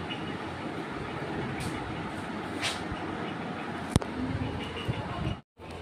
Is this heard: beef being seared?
no